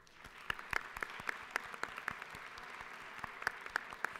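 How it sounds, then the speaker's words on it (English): Audience applause fills the Georgia state capitol legislative chamber, a steady wash of clapping with sharper individual claps standing out throughout, moderately loud and continuous with no talk. "Please help me in welcoming these phenomenal Georgians to our state capitol with your applause."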